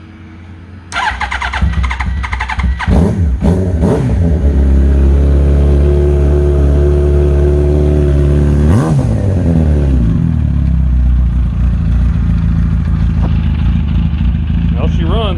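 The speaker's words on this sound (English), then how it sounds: "Well, she runs." Rebuilt Yamaha YZF R1 motorcycle engine cranking and catching, then running loud and close with a few sharp throttle blips before settling into a steady, rough idle.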